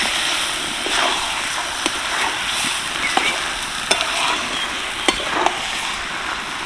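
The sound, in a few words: stirring fried gourd and potatoes in masala in a pan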